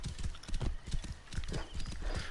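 Rapid rhythmic hoofbeats of a horse galloping through a wheat field in the video game Assassin's Creed Origins, close and steady for a couple of seconds with no talking.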